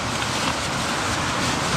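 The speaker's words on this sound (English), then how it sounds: "it's still super windy" Strong wind buffets outdoors at Glacier National Park on a rainy day, a loud, unbroken roar of gusts filling the whole moment.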